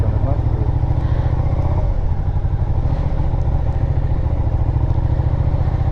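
Motorcycle engine running steadily up close with a low, continuous pulsing throb and some mechanical clatter, the rider's voice faintly over it.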